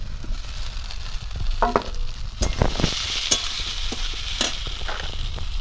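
Onions frying in a pan as a tomato goes in for a Bengali biryani base: a soft, continuous sizzle with irregular spatula scrapes and sharp taps, close and moderately quiet.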